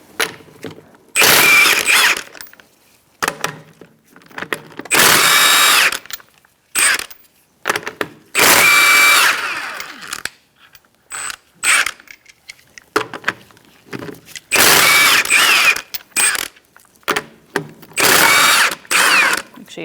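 A power tool, likely an impact wrench or drill, spins off the wheel lug nuts on a 2004–2009 Mazda 3 with a 21mm socket, in loud close bursts of whirring and ratcheting mechanical clatter, separated by short pauses.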